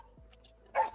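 A dog gives a single short, fairly close bark at the end of a quiet outdoor stretch with faint background noise.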